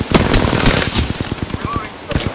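Rapid automatic gunfire from an Apex Legends firefight, a loud, close, sustained burst of evenly spaced shots that fades out near the end.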